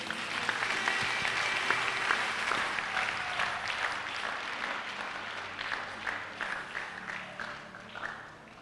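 A church congregation at a Tuesday service claps in a dense, continuous burst that thins into separate, rhythmic claps toward the end, moderately loud in a reverberant room.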